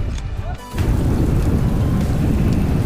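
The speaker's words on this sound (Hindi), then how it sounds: "हम अच्छे खासी बारिश के चपेट में आ चुके थे" Heavy rain and thunder battering a motorbike rider on a mountain road toward Uttarkashi, Uttarakhand, a steady loud roar of wind and downpour after a brief lull, with no voices.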